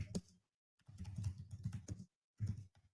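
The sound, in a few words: typing on a computer keyboard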